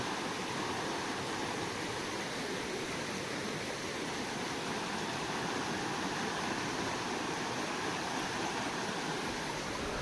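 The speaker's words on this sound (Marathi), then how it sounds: "तिथं गेलं का कळतं की पाणी खूप वाहतं आहे" A small flowing stream (vhal) beside a cashew orchard rushes continuously, a broad, even wash of water steady and fairly close, with no voices over it.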